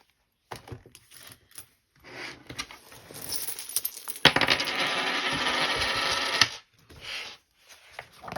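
Two £2 coins rattle and clink in an old dish. Scattered light taps come first, then a sustained, close jangling rattle of a couple of seconds, ending in a few more brief clicks.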